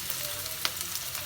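Oil hisses in a steady deep-fry sizzle, close and even, with one brief sharper crackle partway through and no voices.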